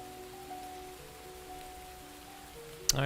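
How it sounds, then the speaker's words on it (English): Rain sounds play as a steady, soft hiss of rainfall, continuous and even, with faint tonal hum beneath and a brief sharp noise near the end. "We have to have the rain noises."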